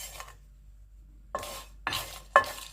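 Cumin, coriander and round red chillies dry roasting in a pan over low heat. Quiet, with a few short scraping, rattling bursts as the spices are stirred, separated by near-silence.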